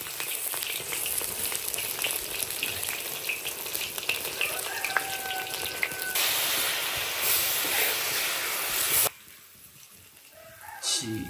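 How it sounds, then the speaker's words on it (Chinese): Salted cured meat with chili peppers frying slowly in a wok over a rural stove, giving a continuous close sizzle that shifts in texture midway and then drops to a quieter crackle near the end. "慢慢的煎"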